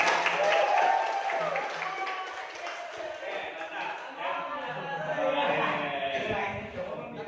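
Classroom group applause for a third-place winner, a mixed burst of clapping from a small crowd lasting several seconds, with voices talking and calling out over it.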